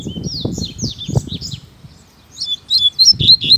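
Coleiros (double-collared seedeaters) chirp in a rural sugarcane setting, with a series of quick, high twittering calls near the start, a short lull, then louder, closer bursts of sharp chirps toward the end.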